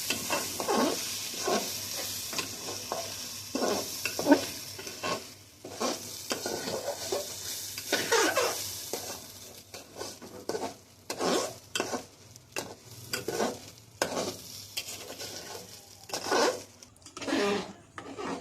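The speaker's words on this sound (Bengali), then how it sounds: "এবার চালগুলো ভালো করে ভেজে নিতে হবে" Rice grains frying in a pan, a dry crackling sizzle broken by frequent rhythmic scraping bursts from stirring, close and fairly loud throughout.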